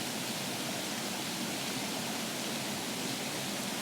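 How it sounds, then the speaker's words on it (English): A waterfall pours steadily, joined by wind moving through leaves, forming a constant, even rush of noise that stays soft and unbroken with no voices present. "Just the sound of the wind in the leaves and the sound of the waterfall."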